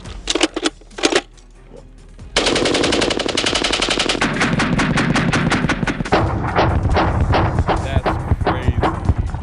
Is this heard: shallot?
no